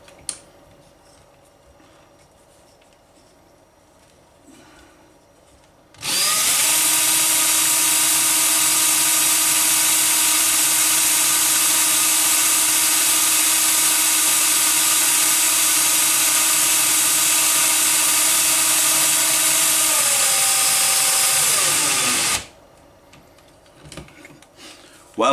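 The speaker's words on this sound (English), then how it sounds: "I'm going to whop the drill on it and see if we burn out any of the wires" A power drill spins a homemade wind turbine generator, whirring at a steady high speed for about fifteen seconds, starting abruptly and winding down at the end, with quiet surroundings before and after.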